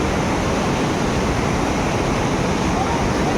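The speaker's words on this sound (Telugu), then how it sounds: "ఇక్కడ ఫుల్ వాటర్ ఫ్లో చూడండి ఎలా ఉందో." Naturally hot spring water at Manikaran beside a gurudwara, flowing in a strong continuous rush, loud and close, a constant torrent.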